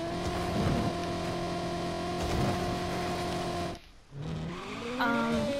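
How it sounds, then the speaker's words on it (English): A steady high-pitched engine whine from a race car in Just Cause 3, a brief dip, then the engine revs back up with rising tones. "I just love the sound to this car. This is like my favorite race car."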